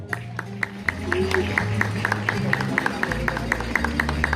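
An audience at a school graduation ceremony applauds, a regular run of sharp hand claps continuing throughout over low sustained music.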